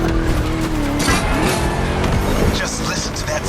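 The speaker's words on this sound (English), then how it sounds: "Just listen to that V8 like a chunky, down-tuned guitar riff." Ford Mustang V8 in The Crew Motorfest racing game, a loud engine roar rising and falling through gear changes, with tire squeal and skidding mixed in.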